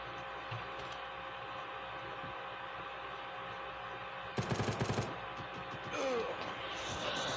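Video game event pistol firing in an online shooter match, a quick burst of about six sharp shots in a row over steady in-game background ambience, followed by a brief clattering sound.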